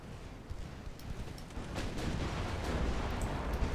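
Heavy guns aboard a warship fire in a naval strategy game, a rumbling series of distant booms and rolling concussions that build into a sustained low roar, fairly faint.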